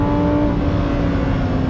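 A Lamborghini Huracan STO engine holds a loud, steady, close roar with strong low rumble and a sustained tonal whine, with no voices over it.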